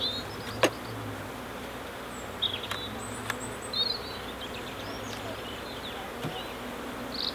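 Honey bees hum and buzz steadily from an opened hive, close and fairly quiet, with a few brief louder passes of individual bees.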